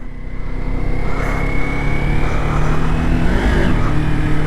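A Kawasaki Ninja 400 motorcycle on the road, heard from the rider's position: a loud, steady engine drone with wind noise, its pitch dipping and climbing around a downshift near the end.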